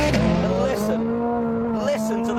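A car engine drones loudly and steadily with a strong sustained tone, its pitch shifting slightly as it revs, mixed with road noise.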